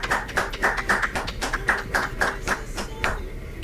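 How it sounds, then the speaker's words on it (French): Rhythmic clapping from an audience at a campus student beauty pageant, welcoming a presenter. The claps land in a steady, evenly spaced beat, fairly close and moderately loud, then thin out toward the end. "Un tonnerre d'applaudissements pour lui."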